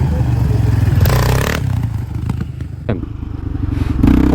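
Yamaha Raptor 700 quad revving hard with a loud, close engine roar that drops and rises again as the rider brakes during a wheelie, with clattering mechanical noise and brief scrapes.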